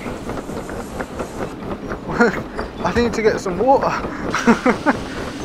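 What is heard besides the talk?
steam train running on rails in Derail Valley video game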